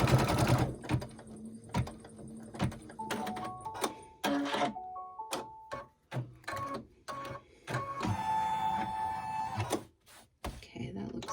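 An embroidery-style sewing machine stitches a table runner down its center seam in bursts of mechanical whirring and clicking, with pauses and short beeps, while a person talks over it.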